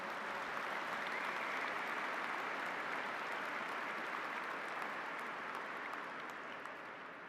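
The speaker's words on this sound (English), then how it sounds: "Please, one round of applause for all the family members and friends who are here." Sustained applause from a large audience at a police academy graduation, honoring family members and friends, a steady dense roar of clapping that fades slightly toward the end.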